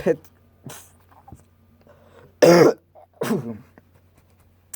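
Several short, harsh coughs close to the microphone, spaced out, with a low hum underneath.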